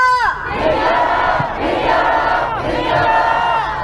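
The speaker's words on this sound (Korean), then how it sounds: "구호와 함성을 외치며 마무리하겠습니다" Large protest crowd at a March 1st national rally in Korea shouting slogans in unison and cheering, loud massed voices surging in waves with a leader's call followed by the crowd's roaring response.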